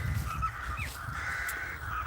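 A few faint, distant crow caws drift across a quiet outdoor setting by the old Shanrahan church cemetery, set against a steady low background hum.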